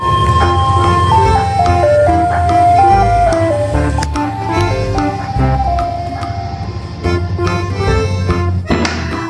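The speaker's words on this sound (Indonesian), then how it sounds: "Yang ini ada mobil es krim." A toy ice cream truck plays its jingle, a bright electronic melody of stepping tones that runs steadily and loudly throughout, with clattering taps of toy handling over it and no voices.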